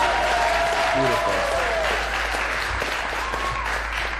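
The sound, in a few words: warm general round of applause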